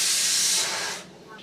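Salted, spiced fish halves dropped into a hot pan give a loud, broad sizzling hiss that holds steady, then eases down to a softer crackle within about a second and a half.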